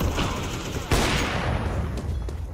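Rapid bursts of gunfire in Counter-Strike 2 crackle continuously over a noisy background, with a sharper blast near the start.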